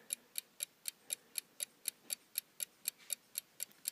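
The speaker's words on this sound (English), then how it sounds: "it too has that rapid kind of tick, tick, tick, tick, tick sound. So that's a West Clock Big Ben" A Westclox Big Ben alarm clock ticks in a quiet room, about sixteen crisp, rapid, evenly spaced ticks at close range, with no voices.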